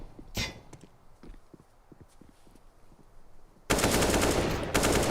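Gunfire in a Counter-Strike match on the Nuke map with Deagle and P250 pistols: scattered sharp single shots, then a sudden loud burst of rapid fire near the end.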